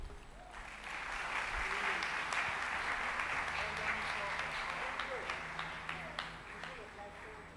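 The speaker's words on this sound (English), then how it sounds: "Another round of applause." A church congregation at a Sunday morning worship service breaks into sustained, dense applause that swells within the first second and holds steady throughout, with a voice faintly audible over the clapping.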